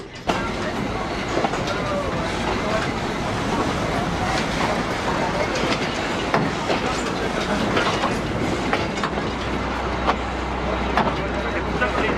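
A train rolls steadily along the rails in Eure, France, with rhythmic clicking and a continuous rumble, close by, with a low hum building toward the end.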